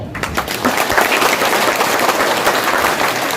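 Audience at a political gathering bursts into loud, dense applause, a steady wash of clapping that carries on throughout without letup.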